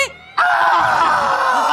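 A voice imitates people screaming in pain, breaking in after a short quiet with one loud, sustained, strained cry that holds to the end.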